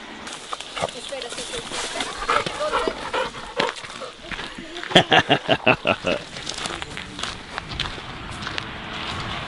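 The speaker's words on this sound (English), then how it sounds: "here to walk the dogs with my family and with Florian, a good friend." Dogs bark in a rapid burst of several sharp yaps midway through an outdoor walk with family in the countryside near Barcelona, amid footsteps and rustling, with a voice speaking over parts of it.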